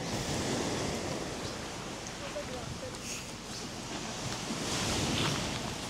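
Surf rolls steadily at Salagdoong Beach on Siquijor island, a constant broad wash of breaking waves with some wind that swells near the end, with faint talking underneath.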